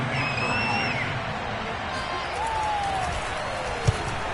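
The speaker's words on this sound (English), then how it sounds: "How about some applause for the defense there?" Distant crowd noise with scattered clapping and faint cheers, a broad continuous roar from a football stadium, with a brief thump near the end.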